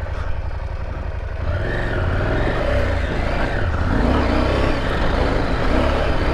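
A 2023 KTM 890 Adventure R with traction control switched off roars through a deep, dry sand wash, its engine loud and steady as the revs rise and fall, with no one speaking.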